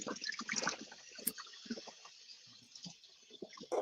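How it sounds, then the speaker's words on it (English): Water runs from a tap during handwashing, a faint, uneven trickle and splash that comes and goes, with a few louder bursts near the start and end. "Washing my hands."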